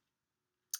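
A single sharp keyboard click from typing a search into Evernote, close and crisp, with near silence before it.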